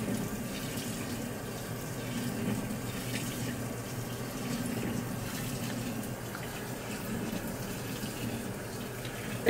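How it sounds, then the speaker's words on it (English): Water runs steadily into a washing machine as it fills, a constant rushing and splashing flow that lasts throughout without voices. "It's filling up the washer with water."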